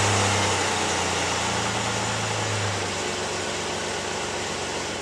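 Project car engine running, a steady, rough mechanical roar with a low rumble underneath, loud and close, continuing evenly throughout with no talking.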